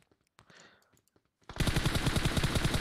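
Rapid automatic gunfire in PUBG Mobile, preceded by a few scattered faint clicks and shuffles, then a loud, sustained burst of closely spaced shots rattling continuously from about halfway through.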